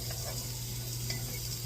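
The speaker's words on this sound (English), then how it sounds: "We're going to saute this for about 30 seconds until it starts to smell good." Garlic sautés in a hot pan beside steaks, giving a steady close sizzle with a constant hiss and a low hum, without any talking.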